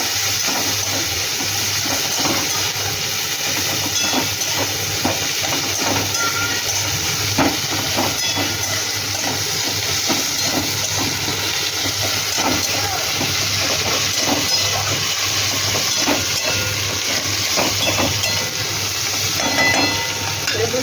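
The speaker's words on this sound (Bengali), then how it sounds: "টমেটো আর কাঁচা লঙ্কা দিয়ে দিলাম। একটু ভেজে নেব।" Tomato and green chilli frying in a pan for a Bengali fish curry, a steady close hiss and sizzle running unbroken throughout with a low constant hum beneath and faint clicks scattered over it.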